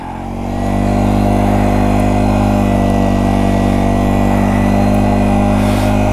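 A Yamaha TW motorcycle engine runs loud and steady while climbing a snowy hill, with a continuous droning rumble that holds even throughout.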